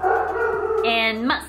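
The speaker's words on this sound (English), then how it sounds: "I'm so sorry about the dog." A dog howls in a long, wavering tone indoors, close and loud, rising and falling while someone talks over it.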